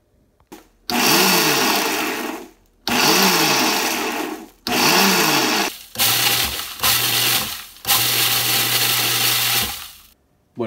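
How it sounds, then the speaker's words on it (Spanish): A countertop blender pulses dried chiles de árbol in short repeated bursts of a second or two, loud whirring runs separated by brief silences, with no talking. "En la licuadora regular le doy por segmentos, tal vez 1 segundo o 2 segundos"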